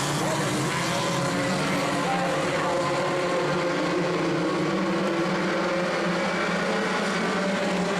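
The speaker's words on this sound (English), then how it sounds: "Green flag flies and we're racing." Focus Ford Midget race cars taking the green flag on an oval track, a dense loud roar of many engines massed together and sustained throughout, with a voice talking over it.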